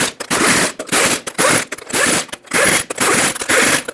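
Wrench torquing the wheel lug nuts on a Ford E-350: about eight rasping ratchet strokes in a quick, regular rhythm with short pauses between them, close and loud.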